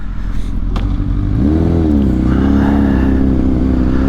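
A 2006 Honda CBR1000RR sportbike engine revs loud and close while riding, a steady drone swelling into a rising, wavering pitch as the throttle opens, with no talk over it.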